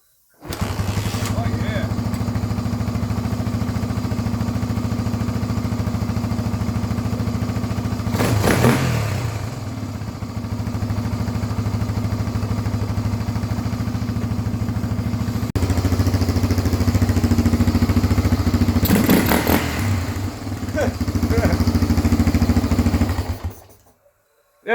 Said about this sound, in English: I shut it down to see how hard it's going to be to crank the second time.